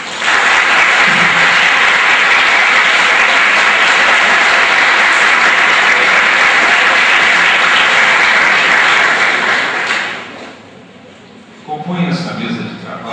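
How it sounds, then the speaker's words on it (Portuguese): An audience at a law faculty event applauds a speaker, a loud, dense, sustained round of clapping lasting about ten seconds before fading to quiet, then a brief stir. "pedimos ao nosso público para que aplaudam, por favor, o Dr. Zumar Fachin"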